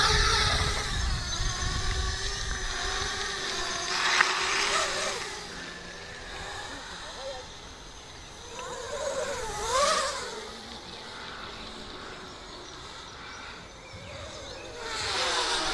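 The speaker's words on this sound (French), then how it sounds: "Mise en route des moteurs." Motors of an MJX Bugs 8 Pro RC drone whirring with a high, buzzing whine that rises and falls in pitch as the throttle changes, fairly close and alone.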